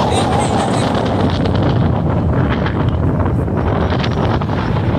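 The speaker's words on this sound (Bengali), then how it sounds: "প্রচণ্ড হাওয়া দিচ্ছে" Strong gusting wind on the rough seafront at Kanyakumari near the Vivekananda Rock Memorial, a loud continuous roar buffeting the microphone, with faint surf underneath.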